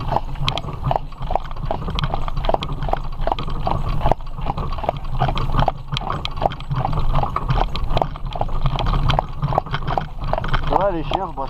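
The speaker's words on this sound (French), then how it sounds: "Félix, trottez." A horse named in French commands trots along on a ride, its hooves clip-clopping in a steady rhythm close by, while a voice repeatedly urges it on and dogs are mentioned nearby.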